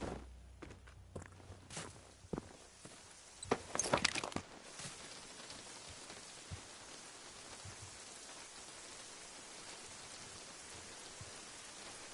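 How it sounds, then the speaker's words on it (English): Rain falls in the video game Generation Zero as a soft, steady patter. A few footsteps and rustles come early on, then the rainfall continues quietly on its own. "It's starting to rain."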